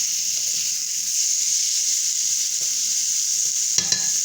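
Water poured onto udon seasoning in a hot pan sets off a loud, steady hissing sizzle that runs unbroken for several seconds, with a few faint clinks near the end and no voices.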